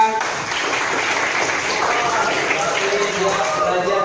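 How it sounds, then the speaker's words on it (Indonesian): Classroom students clap together in a steady, busy burst that holds at an even level throughout, with some chatter mixed in. "Boleh tepuk tangan"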